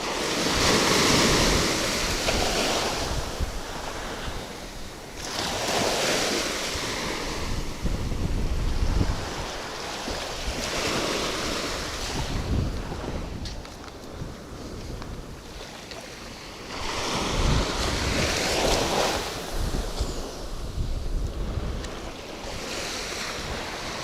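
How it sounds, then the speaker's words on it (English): Chilly north wind gusts off the water at a fishing beach, a steady roar of wind buffeting the microphone over breaking surf, swelling and easing in long waves throughout with no talking. "there's a little bit of wind from the north, making it a little chilly coming off the water"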